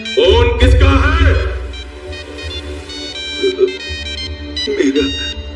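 Mobile phone ringtone playing in a Hindi action film scene, a loud tonal melody with a strong low rumble underneath, mixed with voices and background score.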